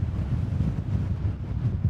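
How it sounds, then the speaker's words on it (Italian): Strong wind buffets a seaside pier in the Netherlands, a steady, heavy low roar of gusts pounding the microphone with no break. "ma il vento è terribile!"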